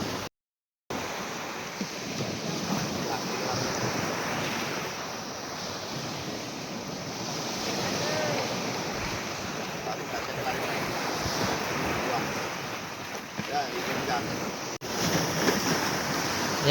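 Sea waves wash steadily against the shore at night, a continuous broad roar of surf mixed with wind buffeting the microphone, with no talking.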